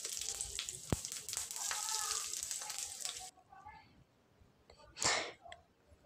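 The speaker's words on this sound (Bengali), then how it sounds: "ফোড়নে নিয়েছি গোটা গরম মশলা আর গোটা জিরে" Whole garam masala and cumin seeds crackle and sizzle in hot ghee, a dense close frying hiss for about three seconds with a sharp pop, then quiet before a brief louder burst.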